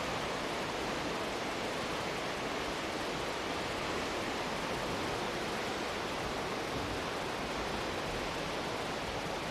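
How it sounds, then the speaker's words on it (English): An angry, swollen river rushes through woodland, a loud, steady broadband roar of turbulent water filling the whole stretch without pause, close by and with no voices over it. "That's an angry river right there."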